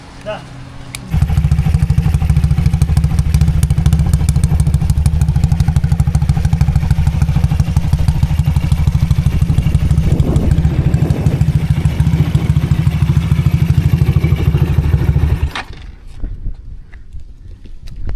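A tuned Honda RS150 single-cam motorcycle engine with a new top set idles loudly up close in a fast, steady, throbbing thump, running for several seconds before cutting off abruptly, with some talk around it.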